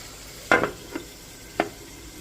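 Chicken frying in an uncovered pan over medium heat, giving a soft sizzle with a few clattering utensil stirs and scrapes in short bursts, close by and without speech.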